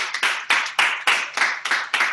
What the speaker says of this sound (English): A hearty round of applause for all of our whole staff who put so much work